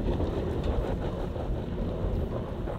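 A 4WD SUV engine held on the throttle in mud mode while climbing off-road, a steady low rumbling drone with wind-like roar, continuous and fairly close throughout.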